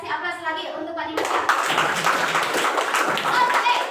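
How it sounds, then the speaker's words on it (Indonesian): An indoor crowd at a company promotion event in Indonesia bursts into applause after a brief voice, a dense, steady wash of clapping that holds to the end. "Ya kasih aplaus lagi untuk Pak Dimas."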